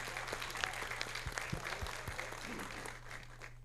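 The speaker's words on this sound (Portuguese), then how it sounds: "Quero pedir uma salva de palmas para os nossos 3 palestrantes de hoje." Audience clapping for three webinar speakers, a scattered, moderately faint patter with a few sharper individual claps, steady for a few seconds and then thinning out, with a low hum underneath.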